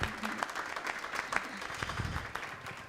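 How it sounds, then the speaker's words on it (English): An audience at a live forum on women human rights defenders applauds a speaker being introduced, a continuous crowd clapping with distinct hand claps standing out, fairly faint and distant, with a few voices murmuring beneath. "Let's give her a round of applause."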